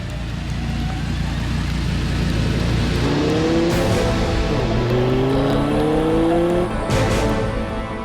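Audi R8 5.2 FSI Quattro heard from inside the cabin while driving: a loud, close engine roar that climbs through rising revs and gear changes, with a brief lull between pulls.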